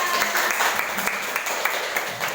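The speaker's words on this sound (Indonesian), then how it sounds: "Tepuk tangan." A group claps in steady applause for a couple of seconds, a dense patter of hands with some voices mixed in.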